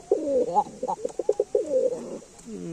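A pair of Lakha pigeons coo in a loft, a close series of soft rolling coos with a quiet room behind them.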